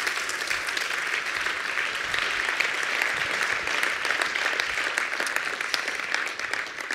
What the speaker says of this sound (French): Vous pouvez applaudir Sophia de Meyer.